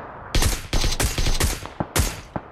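SLR rifle fire in the PUBG battle royale game: a rapid string of loud, sharp gunshots in close bursts, with a few single shots toward the end and no talking.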